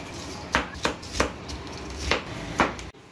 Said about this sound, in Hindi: प्याज की कटिंग होगी